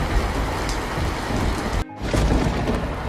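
Heavy rain pours in a dense, loud hiss, broken by a sudden short cut before the downpour resumes.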